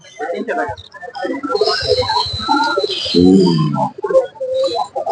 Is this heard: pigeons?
yes